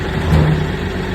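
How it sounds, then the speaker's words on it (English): Brief stretch of a tractor's diesel engine idling nearby, a steady low rumble with a slight swell partway through. "So turn on the tractor."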